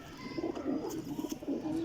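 Cooing from a Rampuri and Medical Batere cross pigeon, kept as a flying pigeon, comes as repeated low throaty rolling coos in quick pulses, close and clear, with no talking.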